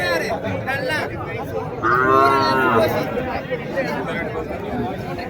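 Cattle at a country cattle market low loudly in a long drawn-out moo partway through, set against steady crowd chatter and the general bustle of the market.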